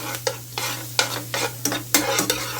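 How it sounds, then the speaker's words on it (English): Onion stirred and cooking in a pot, a close sizzle broken by repeated scraping stirs about every half second, each stroke sharp and rhythmic over the steady frying hiss. "I can't even flip my onion, so we're just cooking the onion till it's soft."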